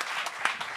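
Audience applause for a French-speaking comedian on a stand-up gong show, a short burst of steady clapping from the crowd throughout.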